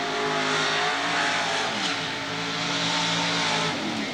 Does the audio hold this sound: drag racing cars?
yes